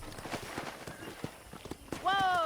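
Horse hooves clip-clop in a ranch setting in the video game Red Dead Redemption, a few irregular clops under a man's speech, ending with a sharp whinny-like cry.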